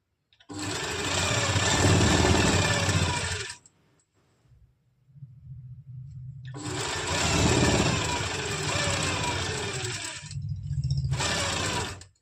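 An electric sewing machine stitches an Afghani salwar near the pocket, whirring loud and close in two long runs and a short final burst, with brief quiet pauses and a low hum between them.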